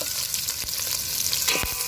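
Chicken and chopped coconut fry in a pan for Pallipalayam chicken with a close, steady sizzle. A spatula scrapes and clatters as it stirs the pieces.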